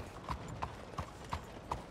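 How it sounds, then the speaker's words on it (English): Horse hooves clip-clop at a slow, steady walk in Red Dead Redemption 2, about five soft, evenly spaced thuds over a quiet background. "Yeah, we bought a new horse."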